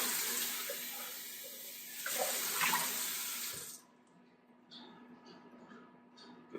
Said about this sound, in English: And then just gonna rinse this out.